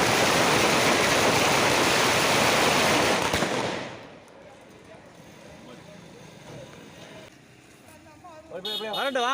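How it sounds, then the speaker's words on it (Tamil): A dense, roaring crackle of celebratory firecrackers in Arittapatti near Madurai goes off nonstop for several seconds, then falls away to quieter background sounds and voices. "மதுரை அரிட்டாப்பட்டி சுற்றுவட்டார பகுதி மக்கள் பட்டாசு வெடித்து கொண்டாடி வருகின்றனர்"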